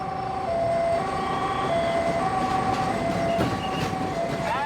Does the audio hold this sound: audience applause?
no